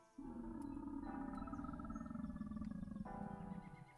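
A Paraxes dinosaur in Roblox Dinosaur Simulator gives a loud, sustained, deep growling roar, rough and rumbling throughout, with a brief shift in pitch partway through and nothing else heard.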